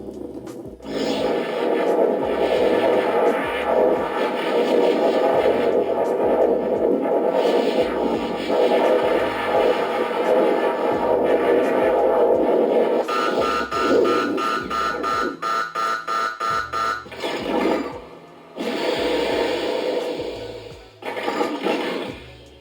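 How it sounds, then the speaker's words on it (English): A Proton Pack replica fires with its video-game overheat function, a loud continuous buzzing, rasping electronic blast that changes into a pulsing, stuttering pattern and cuts off briefly before resuming, with no talking. "you will be able to fire with the overheat function from the video game, which I will demonstrate now"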